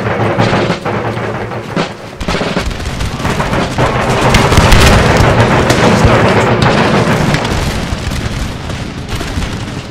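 Massed cannon volley in Empire: Total War, a dense, continuous wall of booming, rumbling blasts that rolls on loudly for the whole stretch with no letup and no talk over it.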